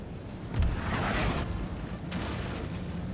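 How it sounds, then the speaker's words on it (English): A cannon fires in a Napoleon: Total War battle, one deep, booming shot followed by a rumbling roll and distant crackle, fairly loud against a busy battlefield din. "Well, that was a good cannon shot."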